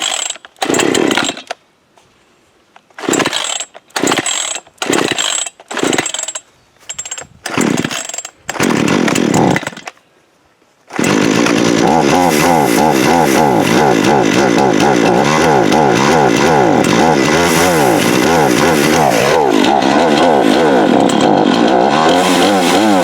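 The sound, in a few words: gas engine of Harbor Freight hydraulic log splitter running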